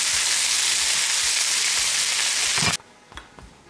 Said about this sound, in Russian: Пока жарится лук.